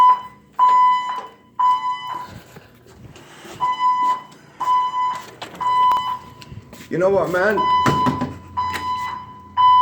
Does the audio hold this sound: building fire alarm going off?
yes